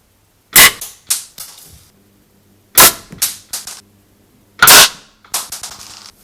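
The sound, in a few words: Benjamin 392 air rifle shot fired through a small tube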